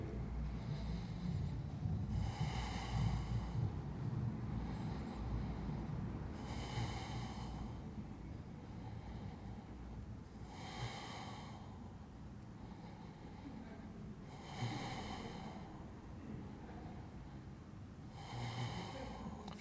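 Slow, deep breaths drawn and released while holding a plank, each breath a soft airy rush arriving about every four seconds, close and steady against a faint low background hum.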